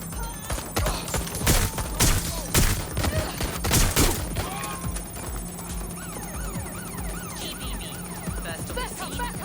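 Rapid gunfire in the Watch Dogs Legion video game, with bursts of sharp shots crackling through the first few seconds and then thinning to scattered shots beneath a steady electronic drone and chirping effects.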